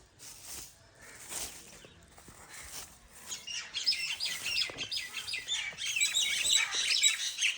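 Birds chirp and tweet around a Pakistani village house, scattered calls at first building to a dense, lively chorus of bright chatter close by.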